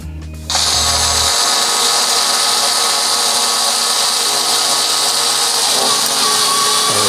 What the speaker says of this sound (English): just put your drill right in the middle of it and start working your way down